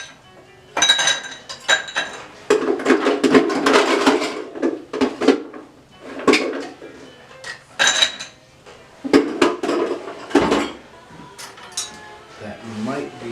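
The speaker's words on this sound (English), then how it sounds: "we're going to actually add our ice to this one" Ice cubes clatter into a cocktail mixing glass for a Sazerac, a run of bright, loud clinks and rattles in bursts with pauses, close up, with a person talking intermittently.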